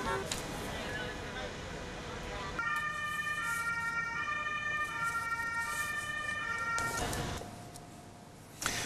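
Ambulance siren in road accident footage, a loud wailing electronic tone sustained for several seconds among traffic noise, fading out near the end.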